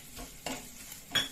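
Fenugreek seeds and asafoetida dropped into hot tempering oil for rasam, giving a soft sizzle with a few brief stirring scrapes of a spoon in the pan, quiet and close.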